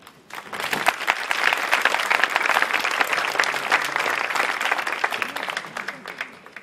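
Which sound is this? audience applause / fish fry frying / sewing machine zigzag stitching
audience applause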